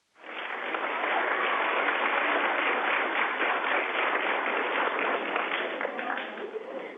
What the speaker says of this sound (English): How about a big round of applause for